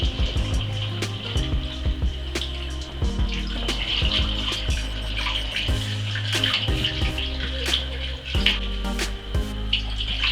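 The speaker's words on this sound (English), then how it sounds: "I'm just going to top it up with nice fresh cold water" Fresh cold water pours steadily into a bottle being topped up for homemade fizzy fruit-tea wine, a continuous close splashing and gurgling flow with occasional small knocks, no voices.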